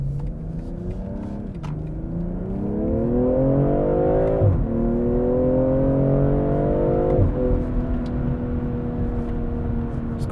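A 2020 BMW M340i sedan accelerates through the gears: the engine note climbs smoothly, dips at each of three quick upshifts, and climbs again. The sound is steady and moderately loud, heard from inside the car.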